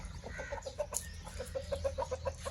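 Aseel chickens with their chicks and a large breeder rooster cluck in a quick series of short, close calls over a low, steady background hum.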